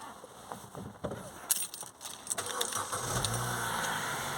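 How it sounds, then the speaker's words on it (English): A Vauxhall Astra engine cranks and catches after some faint clicks and knocks, settling into a low, fairly quiet idle rumble toward the end. "I'm going to start it up."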